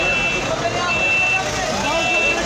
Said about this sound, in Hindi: ये गाड़ी बैक हो रही है, पीछे को आ रही है।